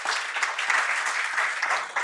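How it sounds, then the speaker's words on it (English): A round of applause for panelists at a power-sector policy dialogue, bright, dense clapping from a seated audience, steady and fairly loud throughout with no talking. "Let's quickly give our panelists a round of applause."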